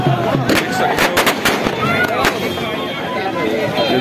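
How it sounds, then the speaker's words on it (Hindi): Fireworks at a Khatu Shyam birthday celebration crackle and pop in a dense burst of sharp bangs over a continuous noisy crowd murmur and voices. "चारों तरफ इनका आतिशबाजी हो रही है, देख सकते हो"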